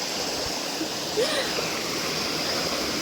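Rushing water from a waterfall in the Malenadu hills forms a loud, steady broadband roar close by, continuous for the whole stretch with no talk over it.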